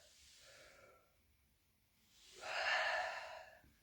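A woman yawning during a breathing exercise: a short breathy intake, a pause, then a longer, louder open-mouthed exhale that swells and tapers off.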